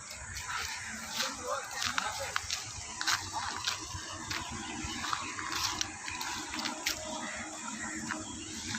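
Water flows steadily from a nearby waterfall-like stream beside a temple, a continuous rushing wash with scattered splashes where people bathe, heard under a voice.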